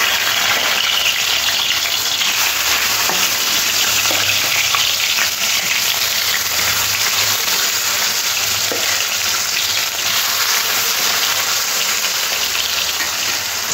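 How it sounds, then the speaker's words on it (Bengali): Marinated katla fish pieces fry in hot oil, a loud, dense and unbroken sizzle with a bright crackling hiss that stays constant from start to finish, no voices. "তেলটা খুব ভালো গরম হয়ে যাওয়ার পরে ম্যারিনেট করা মাছগুলো তেলের মধ্যে দিয়ে লাল লাল করে ভেজে নেব।"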